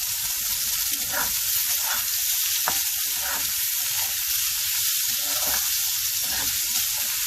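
Chopped onions and a green chili fry in hot oil, giving a steady, close sizzle with periodic scraping and stirring strokes from a spoon in the pan.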